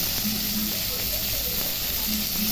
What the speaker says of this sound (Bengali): এখন পেঁপে আলুটা দিয়ে দেবো, লবণ দিয়ে দিচ্ছি